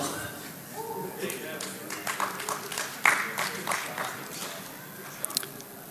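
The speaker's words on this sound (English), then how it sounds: "you don't clap very loud" Scattered, fairly quiet clapping from a conference awards audience, with a few sharp claps standing out over chatter and talk in the room.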